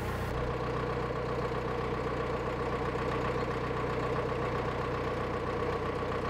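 A narrowboat engine on the Grand Union Canal chugs steadily at idle, a low continuous throbbing rhythm close by with no voices over it.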